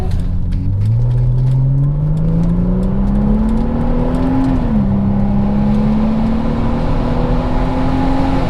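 A European sports sedan fitted with an exhaust resonator drives along, its engine note climbing smoothly through a gear, dipping at a shift, then holding a steady loud drone from inside the cabin.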